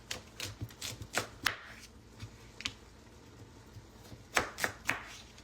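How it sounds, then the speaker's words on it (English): Knife cutting a thick carrot lengthwise on a board, a series of sharp, close chops and taps in uneven bursts, fairly quiet, with no talk. "because this carrot is so thick, I'm gonna cut this baby down long ways"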